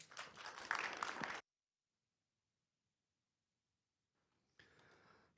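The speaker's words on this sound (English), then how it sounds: "And give him a round of applause." A conference audience claps in appreciation of a presenter, a dense burst of applause that cuts off abruptly, followed by silence and then a fainter, shorter round of clapping.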